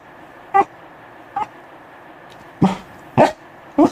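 Dog barking in the video game Breath of the Wild, five short sharp barks in irregular bursts, near and clear over a quiet steady hum.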